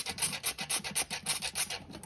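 Rapid, rhythmic scrubbing rasp against the bare metal backing of a motorcycle brake pad from a Triumph Speed Twin caliper, about eight quick back-and-forth strokes, close and fairly loud with no talking.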